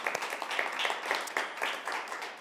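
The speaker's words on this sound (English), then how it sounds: "So give yourselves a round of applause for being here." Scattered hand clapping from a small audience at a women's empowerment workshop, a rhythmic cluster of claps at moderate volume, fairly close and without talk.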